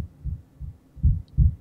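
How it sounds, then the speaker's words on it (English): A heartbeat sound effect in a dark hip-hop beat thumps as two pairs of deep, muffled lub-dub pulses, the second pair louder, over a faint low hum. "I also got bored and added this heartbeat effect."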